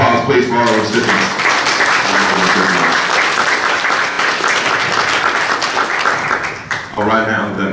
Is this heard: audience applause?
yes